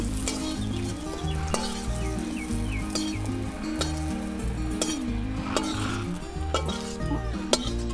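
Potato and young jackfruit frying in a pan give a steady, loud sizzle, with sharp clinks and scrapes of a utensil against the pan. A tonal hum and background music run beneath them.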